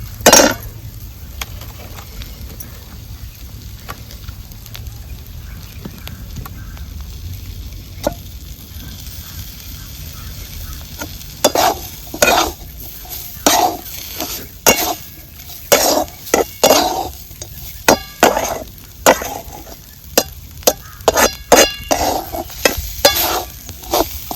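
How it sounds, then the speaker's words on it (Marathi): Boiled green chillies for thecha are turned over in a pan with a gentle, low sizzle, then a run of sharp, close spoon clinks and scrapes against the pan in the second half, with no talking. "आता हलक्या हलक्या हाताने आता ही खालीवर करून हलवून घ्यायची"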